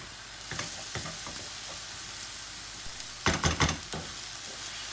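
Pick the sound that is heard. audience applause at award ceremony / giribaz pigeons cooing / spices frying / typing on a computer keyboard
spices frying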